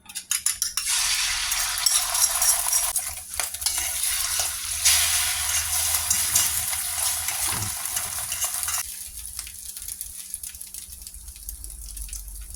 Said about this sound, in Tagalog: magpiprito muna tayo ng isang egg